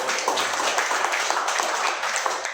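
A brief burst of dense, energetic clapping from a church congregation during a Sunday worship service in Tanjung Priok, loud and continuous without talk.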